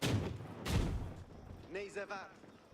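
Grenade attacks in an Age of Empires IV battle, two sharp explosive bursts with low booming tails early on, followed by a voice speaking, all fairly quiet.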